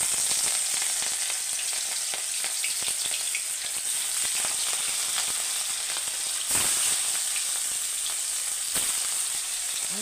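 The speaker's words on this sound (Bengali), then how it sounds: "মেখে নিয়ে তারপর কড়াইতে আমি দিয়ে দিচ্ছি" Marinated rohu fish fries in mustard oil in a wok: a loud, continuous close sizzle with scattered crackling pops, no voices.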